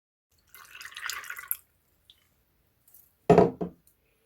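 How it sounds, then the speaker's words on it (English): Warm water poured into a bowl of about twenty fresh cashew nuts: a brief liquid trickle and splash, then a short pair of louder wet clunks, faint and sparse in a quiet kitchen. "Adding some fresh cashew nuts, around about 20 into a bowl, and then adding some warm water."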